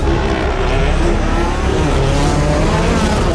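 Subaru rally cars racing flat out on a loose, dusty track, a loud, close, continuous engine roar with tire scrabble and skidding noise, no gaps across the burst.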